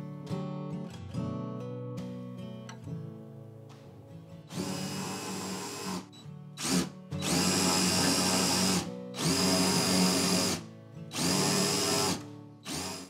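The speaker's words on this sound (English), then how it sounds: "When drilling to a certain depth, use a stopper." A drill press boring a center magnet hole for a homemade rotary spindle sander whines loudly in several long bursts, separated by short pauses and quieter motor hum, with no voices.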